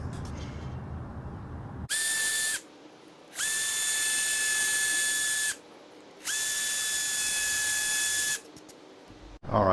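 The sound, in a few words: power drill drilling holes in wood for raised bed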